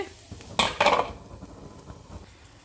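A plate set over a pan of frying cauliflower as a lid makes two quick metallic clanks close together, loud and near. Faint kitchen hum follows.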